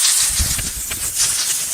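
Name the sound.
compressed air hissing into engine intake manifold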